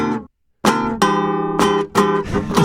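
Guitar strums looped samba-style chords in short rhythmic bursts, heard close and alone, with a brief silence near the start before the pattern repeats.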